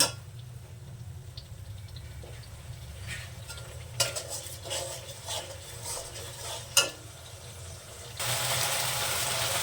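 Ginger, garlic, cumin, green chili and onion paste sautéing in a pan for aloo dum with peas, quiet sizzling with occasional spatula scrapes and clinks against the pan, then a louder hissing burst near the end.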